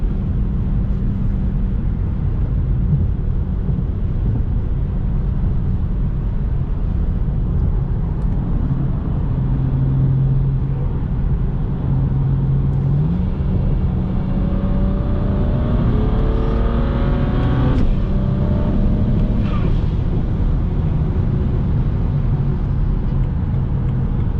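A BMW 335i with the N54 twin-turbo engine cruises on the freeway, with a steady engine drone and road roar throughout and a rising whine of acceleration partway through.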